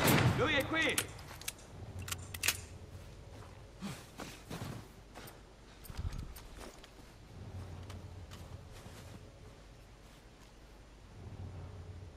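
Gunshots ring out in The Last of Us Part I, a loud burst of several sharp cracks at the start, then scattered single shots over quiet in-game ambience.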